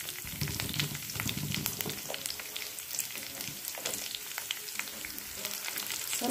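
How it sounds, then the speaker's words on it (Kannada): Onion, chilli and curry leaves fry in a pan with a steady, close sizzle and crackle, punctuated by occasional stirring clicks, with no talking. "ಸ್ವಲ್ಪ ಫ್ರೈ ಮಾಡ್ಕೊಳ್ಳಿ."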